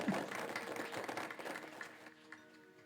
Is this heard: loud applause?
yes